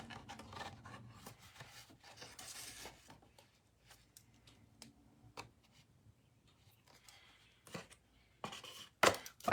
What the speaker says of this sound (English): we're just gonna cut those off